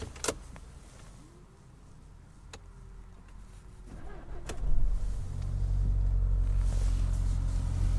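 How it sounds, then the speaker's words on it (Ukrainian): A 1.8 TSI Volkswagen Golf with 151,000 km on it starts up close by, its engine catching at about five seconds and then settling into a steady, loud, low idle rumble, with no talk. "Давайте запустимо автомобіль."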